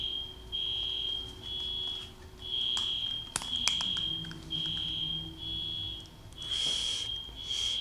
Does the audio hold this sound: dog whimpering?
no